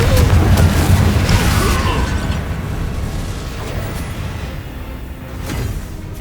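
A Confringo fire spell exploding in the Hogwarts Legacy video game, a loud booming blast with rumbling low energy that slowly fades over several seconds, with brief whooshing bursts near the start and end.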